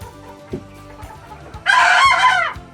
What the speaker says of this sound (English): You have the dumbest crow.